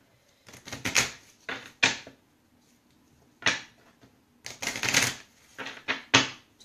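Oracle cards being shuffled by hand in a few short papery bursts with pauses between, close and fairly quiet, no talking.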